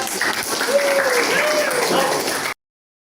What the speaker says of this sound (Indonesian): Oke, tepuk tangan untuk kelas